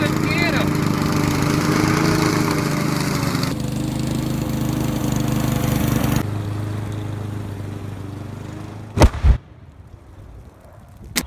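A steady engine drone like a running lawn mower, loud and continuous for most of the clip, then cutting off into a couple of sharp bangs and near quiet.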